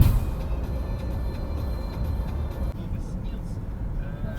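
Car cruising on the M4 highway out of Moscow on a long holiday road trip: steady low engine and road rumble with tire noise throughout, close and continuous, with soft talk inside the cabin.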